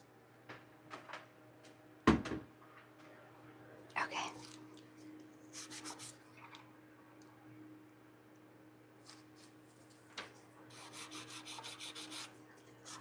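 A nail file rasps across fingernails, short scratchy strokes in irregular bursts with a few sharper knocks, quiet and close, with a steady low hum underneath.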